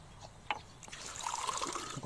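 A small amount of water trickling and pouring after a brief clunk, with a steady thin stream that is fairly quiet and close.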